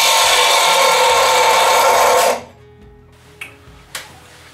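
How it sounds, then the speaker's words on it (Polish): A Parkside PDOS 200 C2 bench grinder stone is pressed hard against a workpiece, giving a loud, steady grinding rasp for a couple of seconds before it stops abruptly, followed by a quiet hum and two small clicks. "spróbujemy sobie, czy da się zatrzymać kamień po prostu przy silnym dociśnięciu"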